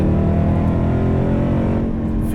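A 710 hp 2019 Roush Stage 3 Mustang runs with a loud, steady, close engine drone full of dense low harmonics, holding a constant pitch throughout with no voices.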